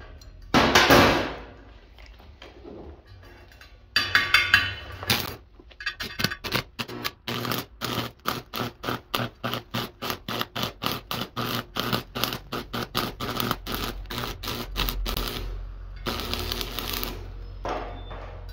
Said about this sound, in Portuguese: Depois eu vou usar um martelinho, bater essa solda